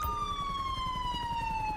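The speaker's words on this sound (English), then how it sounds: "And there's the ambulance." Ambulance siren in a GTA V police mod game, a steady electronic wail sliding slowly downward, loud and continuous with engine rumble beneath.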